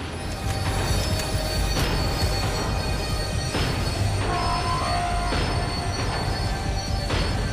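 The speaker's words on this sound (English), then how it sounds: "The tram was slowing down, and I'd only just gotten on board." A tram in the video game Max Payne 3 rolls along and slows with a steady low rumble, high metallic wheel squeals rising over it for a moment near the middle.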